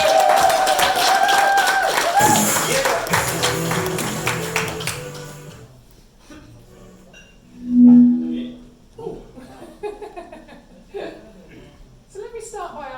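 An evening audience gives a loud, sustained burst of warm applause to welcome a speaker. The clapping fades after several seconds and gives way to a single voice speaking, with a brief swell of noise partway through.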